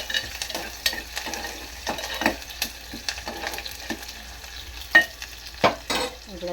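Onions frying and being stirred in a pan for a potato curry, with a steady soft sizzle broken by repeated scraping stir strokes and a few sharper clanks of the spoon, close and alone without talk.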